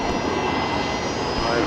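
A Fokker aircraft engine at Brisbane Airport roars in a steady, loud drone with an airport ambience.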